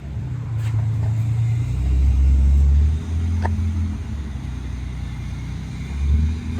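A mechanic's car pulling away: a steady low engine rumble that swells briefly around the middle, then fades slightly as it continues, fairly loud and close.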